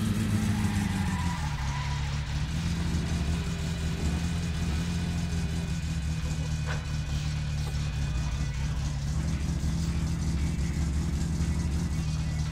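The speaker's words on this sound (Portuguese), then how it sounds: "os dois do carro verde passando" A green car driving past in the video game My Summer Car, heard as a steady mid-pitched engine hum with slight revving that holds throughout without a break.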